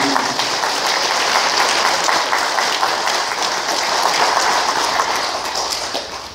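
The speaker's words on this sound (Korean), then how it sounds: "격려의 박수 부탁드립니다" A church congregation at Mass applauding in encouragement, loud sustained clapping from many hands, a dense even patter that holds steady and then begins to taper off toward the end, with no talk.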